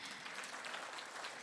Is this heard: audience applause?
yes